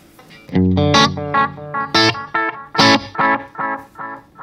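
Plucked electric guitar phrase through a Way Huge delay pedal with soft echoes repeating each note, a quick melodic run played close and clear with no talking.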